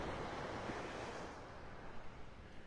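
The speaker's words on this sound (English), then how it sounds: "Yeah, you can hear the waves." Ocean surf washes onto a beach in North Naples, Florida, a broad, steady hiss and rumble of waves with gusty wind noise, fairly faint and continuous with no talking.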